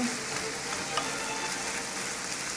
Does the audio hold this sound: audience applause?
no